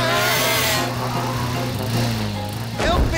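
A cartoon lawn mower running in a children's animated show: a steady, loud motor hum that drones continuously and shifts slightly in pitch near the end.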